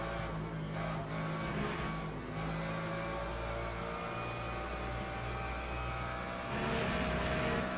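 A Ferrari race car in the sim racing game Le Mans Ultimate drones steadily at high revs for several seconds, its engine note holding a continuous layered hum that swells slightly louder near the end.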